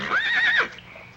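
A single horse whinny, rising and then falling over about half a second, fairly close, followed by quiet.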